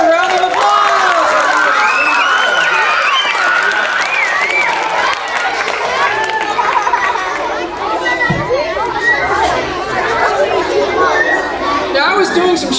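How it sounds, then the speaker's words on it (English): A school audience at an elementary school show gives Isabel a round of applause, steady clapping mixed with loud crowd chatter and cheering that carries through the whole stretch. "Let's give Isabel a big round of applause!"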